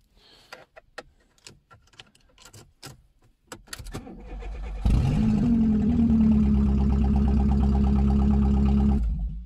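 A long-parked Seat car with 104,000 kilometres is started. Keys jangle and clink first, then the starter cranks and the engine catches into a loud, steady idle that runs for several seconds before cutting off.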